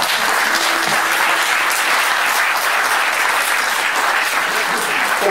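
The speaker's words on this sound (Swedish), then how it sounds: "Bara det är väl värt en applåd." An audience at a scholarship award ceremony breaks into loud, dense applause that holds evenly throughout, many hands clapping close together with no talking on top.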